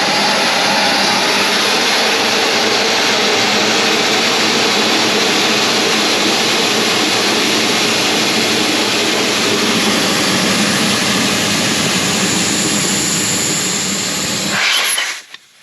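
Air rushes loudly and steadily out of a 35-inch off-road tyre on a 15-inch rim through fast deflator valves, a constant roaring hiss that cuts off abruptly near the end.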